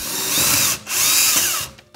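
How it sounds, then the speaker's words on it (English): A power drill with a bit for wall anchors bores a hole into a wall, two loud, close whirring bursts with a brief pause between them and no talking. "So I'm just using my drill and this drill bit that works with the anchors that I'm using."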